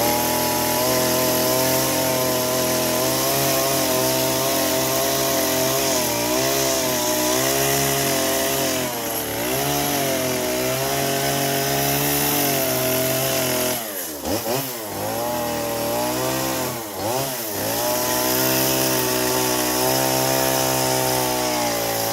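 Chainsaw carving a pine stump into two bears: a loud, steady engine drone runs nearly throughout, with a few brief throttle dips and surges toward the middle.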